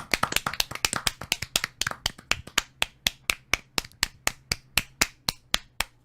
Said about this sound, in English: that was the world's longest clap